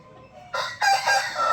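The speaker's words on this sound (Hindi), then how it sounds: "शहजादा यार परे कुकड़ शोर क्यों कर रहे हैं।" A rooster crows on a farm, starting after a brief quiet moment with bright, harmonic bursts that rise and repeat close to the listener, loud and clear with no talking.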